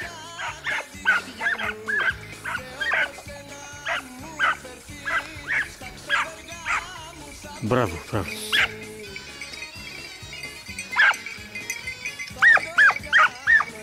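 A hunting dog and a puppy bark and yip repeatedly in short, uneven bursts, fairly close, mixed with people talking and background sound throughout.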